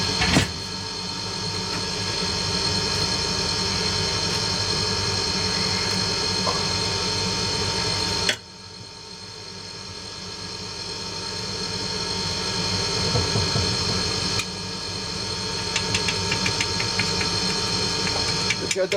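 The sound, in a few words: extractor fan running while casting with petrol bond sand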